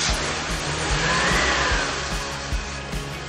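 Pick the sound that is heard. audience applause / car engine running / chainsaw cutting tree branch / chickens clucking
car engine running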